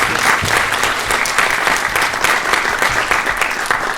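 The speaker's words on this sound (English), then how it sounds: "Let's give him a big round of applause first of all." A big round of applause from a horror film event audience welcoming a guest, loud dense clapping from the whole crowd, steady and close throughout with no pause.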